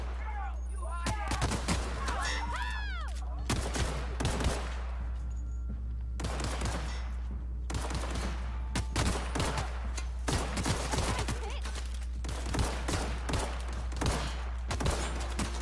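Rapid bursts of gunfire from The Outer Worlds video game, with repeated sharp shots and volleys filling the clip alongside other game effects.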